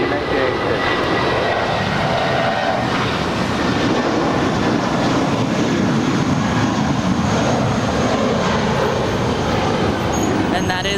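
An American Airlines jet bound for Las Vegas takes off from LAX, a loud, continuous jet-engine roar that holds throughout, with someone talking over it.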